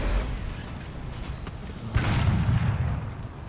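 A tank cannon fires at a Panther D in the War Thunder game at El Alamein, one deep boom landing midway through over a rumbling engine and battle background, with no talking.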